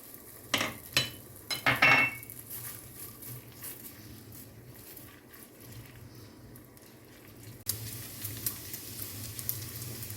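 Paneer pieces drop into hot oil, a few splashy clatters at first, then a soft bubbling fry that swells into a brighter sizzle near the end.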